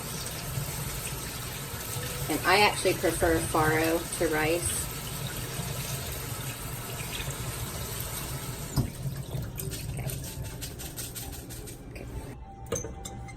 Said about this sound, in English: I'm just gonna rinse this in cold water and just let all the dirt kind of run off of them.